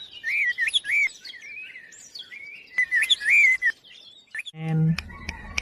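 A bird chirps near the microphone in repeated bright, high tweets and short whistled phrases, loud and clear, with a short low burst and clicks near the end.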